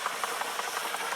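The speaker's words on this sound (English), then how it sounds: "the safety valve lifts to release any excess pressure" A safety valve on a Devonshire-type Burrell steam traction engine lifts to release excess boiler pressure, giving a loud, close, continuous hiss with a rapid rhythmic pulsing chuff.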